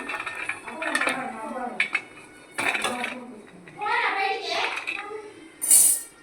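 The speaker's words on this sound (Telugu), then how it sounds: "మనం ఇప్పుడు ఒక ప్లేట్లో పోసేసుకుందాం" Roasted peanuts poured from a pan onto a plate, a rattling clatter of nuts and metal clinks in bursts, with a voice speaking between them.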